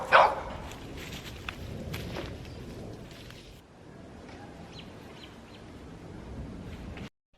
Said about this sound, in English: Whenever I talk to the camera is when they start barking.